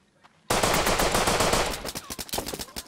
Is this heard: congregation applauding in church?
no